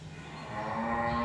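A cow moos near the Masjid Tiban Sunan Bonang in Bonang village, Lasem, Rembang. It gives one drawn-out, close moo that rises in pitch and swells louder toward the end.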